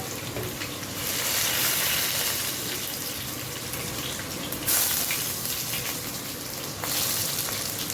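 Nigella seeds and a bay leaf hit hot oil in a pan, a loud, broad, steady sizzle with bursts of sharper crackle, continuing without voices.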